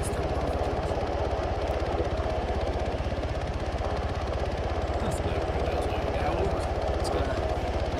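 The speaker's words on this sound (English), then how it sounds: "I think the helicopter that is starting is coming." A loud, steady chopping drone of an approaching video-game helicopter's rotors (Arma 3) fills the whole stretch without pause, close and constant.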